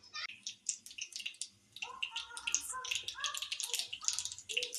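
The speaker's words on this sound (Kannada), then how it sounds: "ಸಾಸಿವೆ ಚಿಟಿಕ್ಲಿ" Half a spoon of mustard seeds spluttering in hot oil in a pan for a raw mango gojju, sending out sharp irregular pops and crackles close by with brief sizzling between them.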